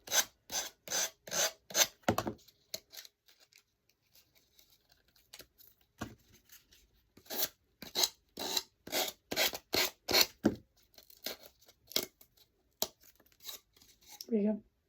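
Rhythmic rasping strokes of a Gator sanding tool working over a surface, coming in quick bursts with brief pauses between, close and fairly loud, with a short voice near the end.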